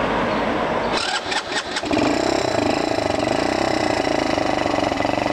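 An x18 super pocket bike engine fires up after a few uneven cranking bursts, then settles into a loud, steady, buzzy idle close by, alone with no voices.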